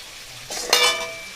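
Vegetables and brinjal fry in a pan, a brief sizzle that swells sharply as the pieces go in, then eases off. The burst is close and fairly loud, and no one speaks.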